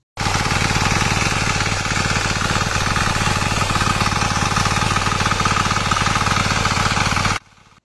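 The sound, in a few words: engine of a small land tilling machine running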